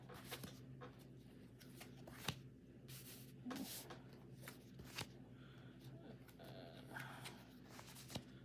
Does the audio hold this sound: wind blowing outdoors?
no